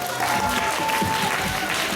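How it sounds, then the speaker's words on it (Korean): Fans at a K-pop fan signing event clap together in a short, dense burst of crowd applause, fairly close and steady, with voices mixed in. "1위 다 같이 박수 한번 치고 시작하도록 하겠습니다"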